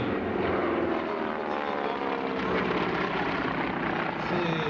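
Propeller aircraft, a T-28 Fennec and T-6 trainers, flying over an air show at Darois, a steady droning engine roar that swells slightly while a commentator talks over it.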